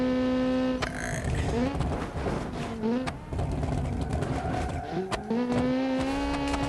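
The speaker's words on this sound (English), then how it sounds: "It's like going crazy over the rumble strips." Low race car in BeamNG.drive accelerating hard, its engine note climbing through gear shifts with a buzzing rattle from running over rumble strips, loud and continuous.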